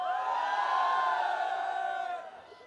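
A large crowd at an outdoor community festival in Malad, Mumbai cheers and whoops together in a loud sustained roar that fades toward the end.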